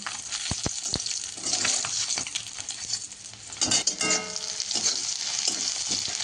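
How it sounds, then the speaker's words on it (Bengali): Onion seeds and crushed garlic fry in hot oil in a wok, a continuous bright sizzle broken by sharp clinks and scrapes of a stirring spoon against the metal, close and loud with no talking. "পেঁয়াজ ফোড়ন আর রসুন থেঁতো ভাজা চলছে"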